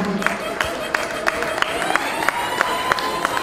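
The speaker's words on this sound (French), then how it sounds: "Vous pouvez l'applaudir très fort pour Madagascar" An audience at an African guide presentation evening claps in sparse, evenly spaced beats, a thin smattering of applause with some crowd murmur around it.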